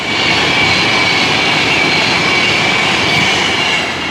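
A continuous, steady rumbling rush of a model train running along track on a model railway, loud and close throughout with no gaps.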